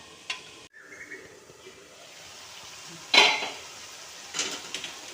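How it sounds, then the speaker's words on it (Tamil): Chicken masala gravy sautés in a pan, with a quiet background sizzle broken by a few sharp metal spoon clinks and scrapes against the pan at close range. "வதங்கட்டுங்க ஒரு அஞ்சு நிமிஷம் வதங்கட்டும்"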